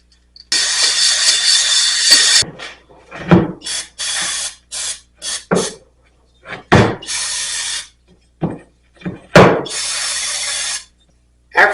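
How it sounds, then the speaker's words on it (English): A hone works inside the cylinder of a 1991 Honda CR250: a long, close, grinding, hissing burst, then a run of shorter bursts broken by scrapes, knocks and clunks. "After you've run the hone through the cylinder"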